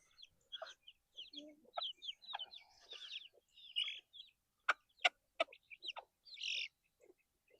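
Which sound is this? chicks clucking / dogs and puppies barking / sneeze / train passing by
chicks clucking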